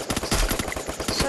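Gunfire in a video game rattles out as a rapid series of sharp, loud bursts in irregular clusters, close and dense, with no voices over it.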